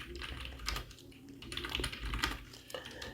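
Rapid keystrokes on a computer keyboard while entering an examination number into an MS Word document, with irregular clustered clicks at close range and no talking.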